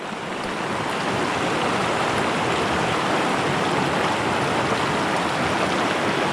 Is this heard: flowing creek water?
yes